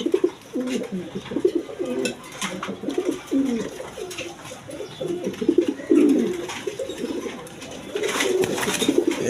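A male pigeon gives repeated low, throaty coos close by. Its rolling calls come in a steady run with only brief breaks.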